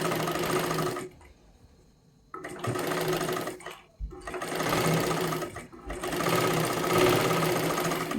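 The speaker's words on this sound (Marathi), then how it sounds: "अशा पद्धतीने आपण शिलाई मारून घेतलेली आहे" A sewing machine stitches the seam of a katori blouse in three close, fast-whirring bursts, separated by brief pauses where the motor drops away.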